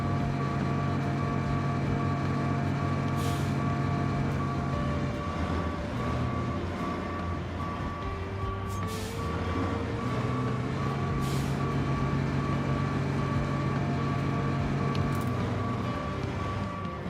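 A heavy truck in Road Craft rumbles steadily with its engine droning, while a reversing alarm beeps in a regular rhythm and short air-brake hisses break in now and then, loud and close throughout.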